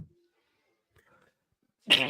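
A single sharp human sneeze bursts out loud and close at the end, after a quiet stretch with a faint murmured word.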